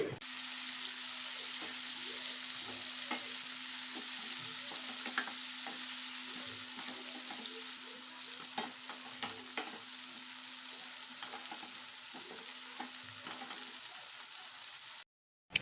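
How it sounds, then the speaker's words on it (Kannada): Chopped onions fry for palak paneer in a pan, a steady close sizzle with scattered stirring clicks and scrapes throughout, ending in a short silence. "ಈಗ ಸ್ವಲ್ಪ ಫ್ರೈ ಆಗಲಿ"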